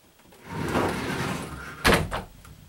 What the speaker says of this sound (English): One sliding door.